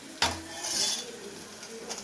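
Dishes and pans being scrubbed and rinsed, with a sharp clatter of a pot or utensil followed by steady scraping and clinking, close up with faint background noise.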